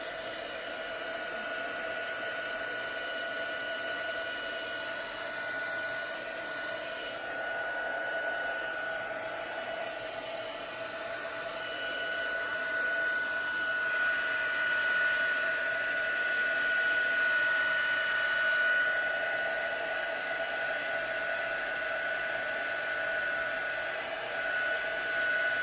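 A heat embossing tool blows hot air over a Bible journaling page, a continuous even whirring hiss with a steady high whine, close and unbroken for the full length, with no talking.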